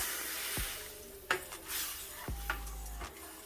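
A spoon stirs evaporated milk into potato pie filling in a metal pot, with soft scraping, a few clinks against the pan, and low background noise.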